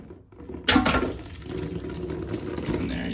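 Water gushes suddenly from a toilet hose just disconnected during a repair, then keeps running steadily and splashing up close.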